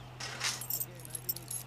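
A bunch of keys hits the floor with a bright metallic jingle and clatter, followed by a few scattered light clinks, set against a steady low electrical hum in a Tamil comedy scene.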